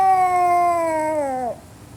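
A human voice imitates an unhappy cat, giving one drawn-out, tonal yowl that holds strong and close for about a second and a half before bending downward and cutting off.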